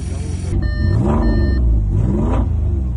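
Audi S5 engine pulled from a flood-damaged car, running and revving on video: a loud, close rumble that swells through two throttle blips, with a high whine riding above it.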